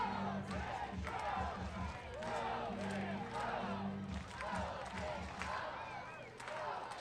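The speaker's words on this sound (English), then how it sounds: "This Kenosha crowd is the loudest we've heard it all day." Baseball stadium crowd at a Kenosha Kingfish home game against the Rockford Rivets, cheering and shouting steadily for the whole stretch, a broad roar heard at a distance with a commentator talking over it.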